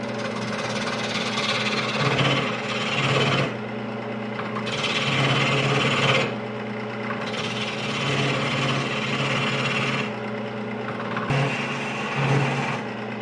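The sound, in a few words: wood lathe turning with a spindle gouge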